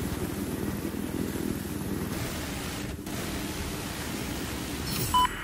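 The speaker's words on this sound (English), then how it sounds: "I spotted an enemy helicopter!" Enemy helicopter in an online military shooter game, a steady broadband rotor and engine roar that holds at constant loudness throughout, with a brief dip midway and no talking.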